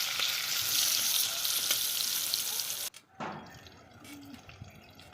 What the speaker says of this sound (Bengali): প্রথমে পটলগুলো লম্বা লম্বা করে কেটে রাখা পটলটা ভেজে নেব।